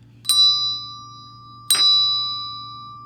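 Two small bells are struck one after the other at the same pitch, each giving a bright ding with a long ringing decay, about a second and a half apart, close and clear over a low steady hum.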